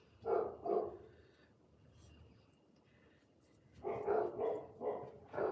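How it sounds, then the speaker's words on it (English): Pet dogs bark in two bursts of quick, rough barks, a pair at the start and a longer run near the end, moderately close indoors with a quiet stretch between. "And of course my dogs have decided to go nuts."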